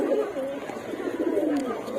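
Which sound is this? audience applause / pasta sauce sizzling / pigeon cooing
pigeon cooing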